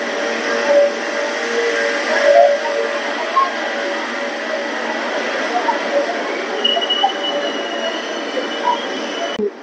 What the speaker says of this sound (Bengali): আর এই ট্রেনটি নিউ জলপাইগুড়ি স্টেশনে 3 নম্বর প্ল্যাটফর্মে ঢুকছে।